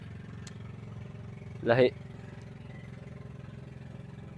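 A fishing boat's engine drives a winch through a power take-off. It thrums steadily at a low, even pulse for the whole stretch, and a voice speaks briefly over it.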